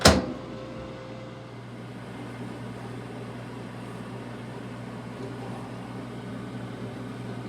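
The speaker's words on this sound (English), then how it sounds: "I'm gonna put it in the microwave for at least 8 to 10 minutes" A microwave oven hums steadily at close range after a brief click at the start, a constant low drone with no talking.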